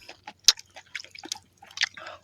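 Wet chewing and biting on a mouthful of kinilaw, a raw fish dish, give a handful of close, irregular squishy smacks separated by brief quiet.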